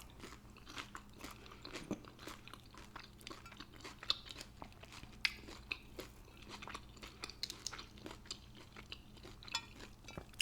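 Close, crisp crunching as someone bites into a taco with cheese and keeps chewing, a run of sharp crackly bites and wet mastication clicks repeating steadily with no talking.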